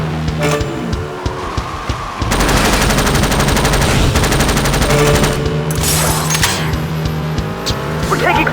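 Gunfire and engine roar in Jak X combat racing: loud machine-gun bursts over racing cars, a sustained rapid volley in the middle, then sharp tire squeals and scattered shots, with a voice briefly heard.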